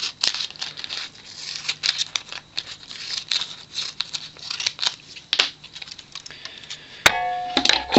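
Adhesive foil tape is snipped and torn into a strip, giving sharp scissor clicks and crinkly rips in quick irregular bursts, ending with a bright metallic ringing clink.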